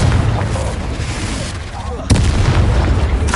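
A fire spell goes off in Hogwarts Legacy, a loud burst about two seconds in, over a steady roar of game sound and effects with a voice mixed in.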